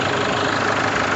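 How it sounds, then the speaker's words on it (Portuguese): A 2011 Chevrolet S10 Executive 4x4 with an MWM diesel engine idles close by, giving a steady, loud, low clattering rumble with no change in pace over a brief moment. "Olha o barulho do motor da nave."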